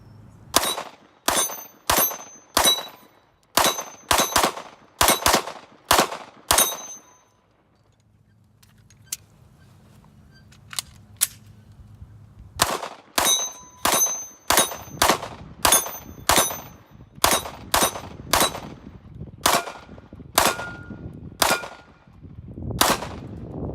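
Rapid pistol shots from a Smith & Wesson M&P 2.0 Compact 9mm striker-fired handgun at an outdoor range, loud sharp cracks in quick strings, a brief pause midway, then another fast series of shots.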